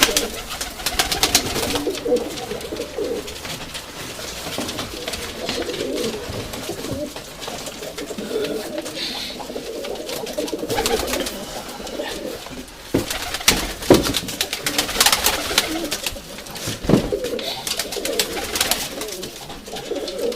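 Urfa Arab pigeons cooing as a white Istanbul pigeon box is opened, with repeated soft coos and bird calls throughout, along with rustling, wing flutters and faint handling noises.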